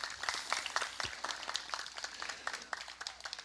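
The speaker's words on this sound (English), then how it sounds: "Everyone give her a round of applause." Audience applause in a church or spiritual-center service, a steady crowd of hands clapping in a dense, even patter at moderate distance, with no voices over it.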